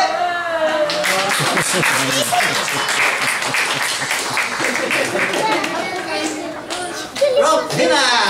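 Children applaud a performer at a bookstore event, giving a sustained round of clapping mixed with excited young voices and chatter that continues for several seconds before tapering.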